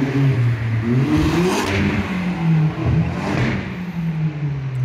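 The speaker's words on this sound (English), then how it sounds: "Why do those cars always drive so fast?" Cars speed past on a road with rising engine roar and revving, two loud passes close by whooshing through, alone without talk.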